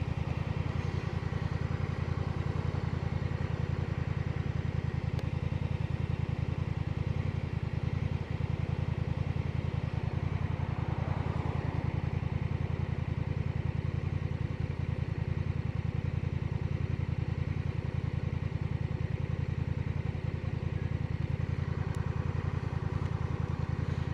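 A Honda Rebel motorcycle engine runs steadily at a low, even rumble throughout, with no pauses and no voices.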